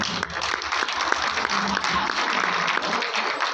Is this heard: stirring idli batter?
no